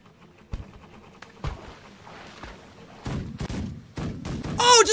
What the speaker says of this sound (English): just hovering over the weapons makes them fire